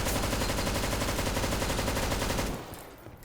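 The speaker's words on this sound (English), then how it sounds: "We can shoot through this wall because this is like concrete." Rapid automatic gunfire in Garry's Mod, shooting through a concrete wall with customizable weapons: a dense, loud, steady stream of shots that stops abruptly near the end, leaving a short fading tail.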